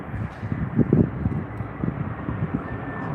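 Aer Lingus airliner landing on runway 27R at Heathrow, a low, rumbling engine roar with gusty wind buffeting the microphone, steady and fairly close over a few seconds.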